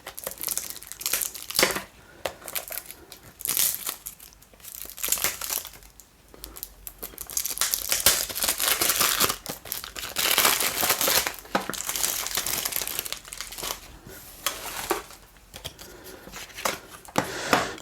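Plastic wrapping on a Maxell MD74 colour minidisc storage box crinkles and tears as it is opened by hand, close up, with bursts of rustling and crumpling across the whole stretch and no talking.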